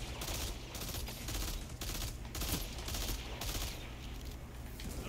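Burst-fire pulse rifle shots in the shooter game Destiny 2, quick clustered volleys repeating at short intervals, fairly faint amid game noise.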